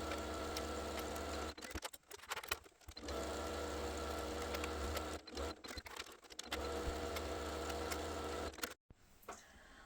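Domestic sewing machine stitching a tote bag seam, a fast steady mechanical whirr running close and continuous, broken by a few brief stops and restarts as the fabric is turned at the corners.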